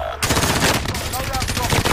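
Rapid bursts of automatic gunfire from the Call of Duty Warzone video game rattle continuously and loudly for about two seconds, with dense overlapping shots and battle noise.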